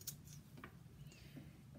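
Scissors snip through one-inch fabric straps while trimming the edges of a sewing project, a few quiet, close crisp cuts over a soft background hum.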